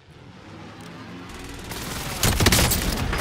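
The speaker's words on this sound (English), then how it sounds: "Be advised, friendly position airstrike inbound." Airstrike explosions in a combat video game, a low rumble building steadily into a dense burst of booming blasts and crackling gunfire that grows louder toward the end.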